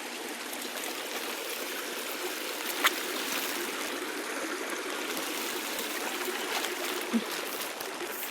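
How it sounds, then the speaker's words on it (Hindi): Rainwater from the previous night rushes steadily across a farm field, a continuous close wash of flowing water with only a couple of brief knocks and no talking. "पानी रात में बढ़ गिरे संगवारी हो। देखो कितना ज़्यादा जाते है।"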